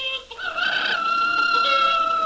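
A hen clucking and crooning in a farmyard, a series of close, tonal warbling calls rising and falling over about two seconds, heard alone without speech.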